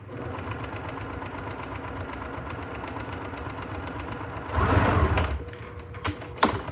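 A sewing machine runs steadily, seaming quilt block pieces together with a continuous mechanical whir. Near the end it rises briefly in a louder burst, then gives a few sharp clicks.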